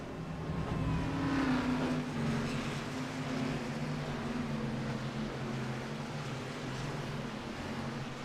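Race cars at Dover idle and rumble behind a pace car, a steady layered engine drone with low throbbing tones holding fairly level throughout, moderately loud and without talk.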